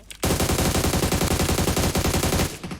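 Rapid automatic gunfire in the mobile battle royale game PUBG Mobile, a loud sustained burst of rhythmic shots running nearly three seconds before cutting off.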